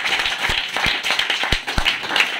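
A small crowd claps at a cricket trophy ceremony to honour the man of the series, a short burst of scattered, uneven hand claps.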